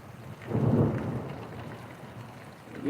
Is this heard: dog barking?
no